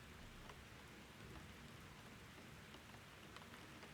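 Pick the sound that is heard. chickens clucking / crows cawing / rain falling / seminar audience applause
rain falling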